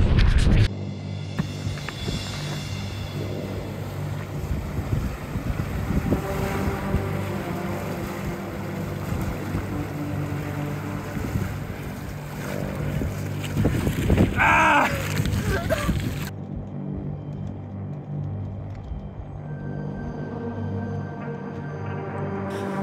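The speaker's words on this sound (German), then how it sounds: "Das Wasser hat schon Wucht, oder?" A powerful glacial river in Iceland rushes past in a loud, steady roar of churning water that holds up throughout.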